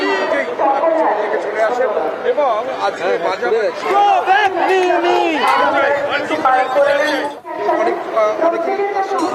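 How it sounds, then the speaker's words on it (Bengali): A large protest crowd at a night rally in Shyambazar fills the air with dense, loud shouting and chanting of slogans, many voices overlapping continuously with a brief dip near the end. "মিমিকে গো ব্যাক স্লোগান শুনতে হয়"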